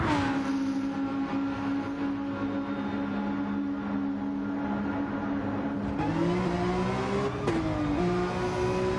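A race car in a racing sim pulls out of the pit lane at Spa, its engine holding a steady loud drone before rising in pitch through two quick upshifts near the end.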